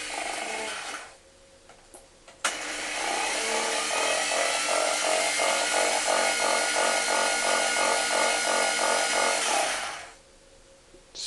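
A power drill spins a viscous-damped reel idler flywheel from an Ampex MM-1000 tape machine, whirring steadily for several seconds with a rough, grinding tone, starting and stopping abruptly, with no talking.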